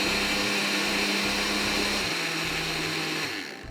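A kitchen blender whirs loudly and steadily as it mixes a muthi kebab mixture, the motor droning without pause before easing slightly at the very end.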